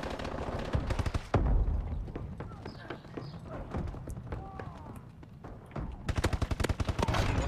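Rapid bursts of automatic gunfire in a first-person shooter video game, loud and close, with a dense rattling stretch at the start and again at the end and scattered shots between.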